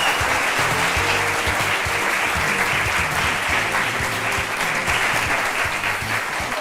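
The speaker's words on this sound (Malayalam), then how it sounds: "കയ്യടി തുടങ്ങുന്ന സമയത്ത് നമുക്കിപ്പോൾ സ്വാഗതം ചെയ്യാം നമ്മുടെ ഇന്നത്തെ ജഡ്ജിയായ രാം ത്രിപാൽ സിംഗ" Studio audience applause fills an Indian TV courtroom-style talk show as the day's judge is welcomed, a dense, steady wash of clapping that holds at one level throughout with no voices over it.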